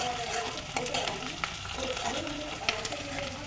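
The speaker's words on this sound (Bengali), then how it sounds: "শুকনো লঙ্কা, তেজপাতা, গোলমরিচ, দারচিনি, একটু হালকা লবঙ্গ আর অল্প একটু এলাচ দিয়ে এটাকে একটু ভেজে ভেজে নেওয়া হচ্ছে।" Dry chili, bay leaf, peppercorn, cinnamon, clove and cardamom fry in a pan, making a dense, continuous sizzle close by, broken by sharp scrapes and clicks of stirring.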